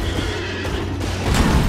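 Horse neighing in a Souls-style action video game, a short whinny rising over a dense low rumble of combat effects and music, fairly loud and close, with no talk over it.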